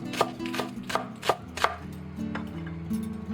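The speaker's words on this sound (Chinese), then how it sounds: "然后直接给它切成小粒" A knife chops onion into small dice on a board, about eight crisp close strikes in a quick irregular rhythm over a steady background hum.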